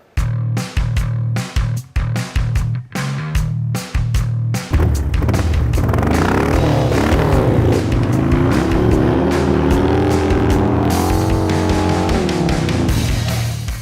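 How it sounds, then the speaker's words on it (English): A motorcycle laps a dirt oval in a hooligan-style race, loud and close. Sharp engine bursts and gear-change cuts come first, then a sustained roaring rev that rises and falls as the bike circles. "We're gonna head out there, I'm gonna watch Wiggins do his thing and then throw my leg over his bike"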